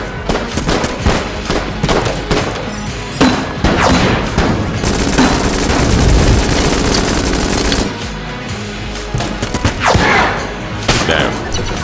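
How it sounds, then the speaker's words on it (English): Heavy barrage of grenade blasts and rapid gunfire in the bullet-hell game Enter the Gungeon, loud and continuous with dense booming bursts, a sustained roar midway, then sharper scattered impacts. "Only use the grenade."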